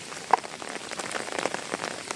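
Rain falls on water in a soft, continuous patter of scattered drops, fairly faint and close, with one slightly sharper splash near the start.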